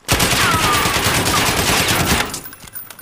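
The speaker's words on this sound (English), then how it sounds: "I hear gunshots." Rapid, dense gunfire in a Call of Duty video game rattles continuously for a few seconds, loud and close, then cuts off into quieter background.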